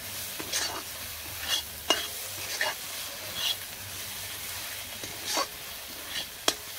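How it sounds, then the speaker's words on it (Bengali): Chili, cumin and coriander powder being sautéed and stirred in a pan for a rohu fish curry: a low steady sizzle broken by several soft scraping stirs, fairly quiet and with no talking. "পরিমাণ মতন মরিচের গুঁড়া, জিরা ধনিয়ার গুঁড়া, ভালোভাবে কষামু।"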